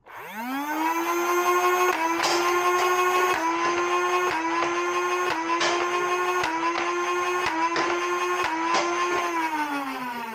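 A Nerf N Series Sprinter flywheel blaster whirs steadily for about ten seconds as it fires a full magazine of darts down a dark hallway, with roughly a dozen sharp dart shots punctuating the loud, continuous motor hum.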